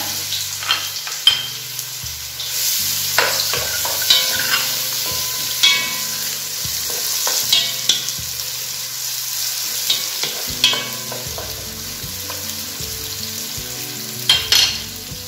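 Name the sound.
onions frying in oil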